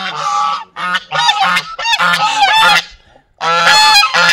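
Ducks kept in a small pond at a hotel give loud, close, nasal honking calls in several rapid bursts, with a short pause before a final raucous outburst.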